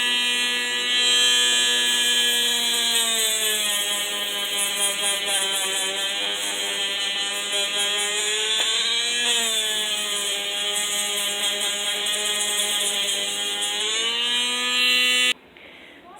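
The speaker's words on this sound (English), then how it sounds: "But first, we have to sand the inside so that the little hairs show." A power sander works over the inner surface of a bicycle tire to roughen it for shoe soles. It gives a steady, loud whining hum that drifts slightly in pitch and runs alone for about fifteen seconds before cutting off abruptly.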